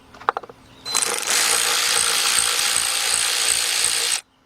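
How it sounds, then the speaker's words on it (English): Ratchet fitted with a 10mm deep 3/8 drive socket removing bolts during an Audi A8 Quattro starter replacement, a few quick clicks followed by a sustained rapid ratcheting whir of about three seconds, close and clear. "what we're gonna use is, again, our big bill ratchet with a 10mm deep 3/8 drive socket,"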